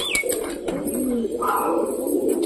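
Pet pigeons coo close by in soft, low, rolling calls that overlap one another, with a brief higher chirp mixed in.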